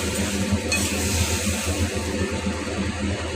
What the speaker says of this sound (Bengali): এবার মশলাটা একটু নেড়ে চেড়ে দিয়ে একটু ভাজা হয়ে যাবে